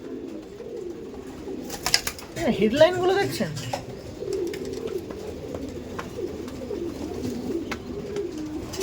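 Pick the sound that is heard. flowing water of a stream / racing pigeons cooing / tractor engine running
racing pigeons cooing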